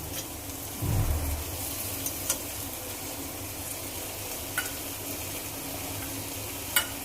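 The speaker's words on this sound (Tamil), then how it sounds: "ஸோ இஞ்சி பூண்டு போட்டாச்சு. போட்டுட்டு ஒரு லைட்டாக வதக்கினா போதும்." Ginger-garlic paste sautés in a pan for a chicken gravy, making a steady bubbling sizzle with a low thump near the start and a few sharp spatula clicks against the pan, without speech.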